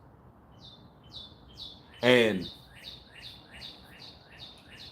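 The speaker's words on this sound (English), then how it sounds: "Y'all hear the birds chirping." Small birds chirp outdoors in a steady run of short, bright tweets at a moderate distance, with a brief spoken word cutting in midway.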